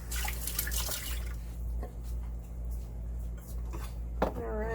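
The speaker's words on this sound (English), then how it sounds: "Just gonna rinse my fingers off real quick." Fingers rinsed under a running kitchen tap while making fresh basil pesto, a steady soft stream with faint clinks of dishes and drips, and a brief squeak near the end.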